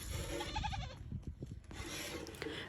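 Goats bleat in short nasal calls while a shepherd hand-milks a goat, with scraping, rubbing handling noises and squirts filling the gaps.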